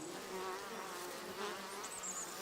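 Japanese honeybees buzz at garden hives in a Buddhist temple garden in southern Honshu in spring, a dense, steady swarm hum with close wingbeats passing through, faint overall and free of speech.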